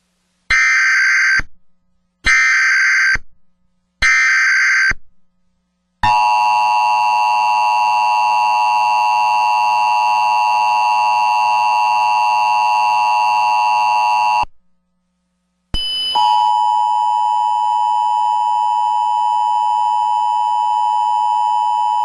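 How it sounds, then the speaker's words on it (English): Emergency broadcast system monthly test alert tones: three short blaring buzzer bursts, then a long sustained loud two-tone attention signal, a brief silence, and a steady single high tone to the end. "This is a coordinated monthly test of the broadcast stations of your area."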